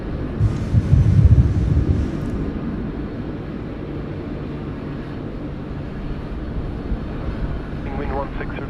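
A plane landing on runway 16 right at Sydney Airport, a steady broad engine roar held throughout, louder near the start, with a voice speaking over it.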